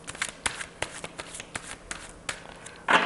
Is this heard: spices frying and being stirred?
no